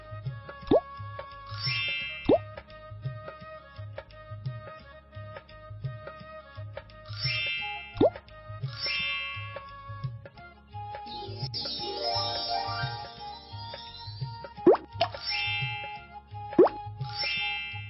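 Repeated soft plops and dings from an Indian wedding-ritual video game, a ring dropped into a pot of milk and searched for, with rhythmic game music beneath and scattered splashy clicks.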